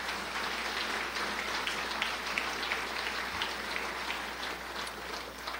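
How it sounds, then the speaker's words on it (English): At a State of the City address, an audience gives a dense, steady round of applause for the fire department, soft and somewhat distant, with a low hum beneath and no one talking. "Let's give Dave Crane and the fire department a round of applause"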